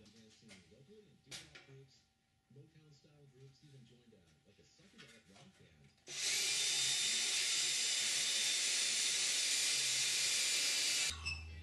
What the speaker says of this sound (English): I can drill from the outside with my standard number 30 drill bit